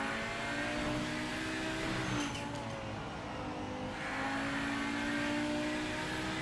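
An Audi quattro with all-wheel drive revs at the launch in a racing video game, the engine note droning steadily with layered harmonics, slightly dipping midway as if it bogs down, then swelling again, continuous and unaccompanied by voices.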